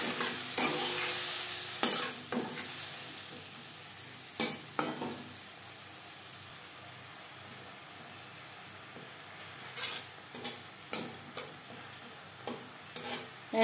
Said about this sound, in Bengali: কারি পাতা ভাজা হয়ে গেছে, এবার দিয়ে দেব হলুদ গোলা জল।